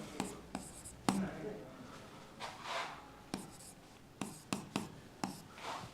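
A teacher writes on a board with quick taps and short strokes in an irregular rhythm, fairly faint and close, with occasional speech.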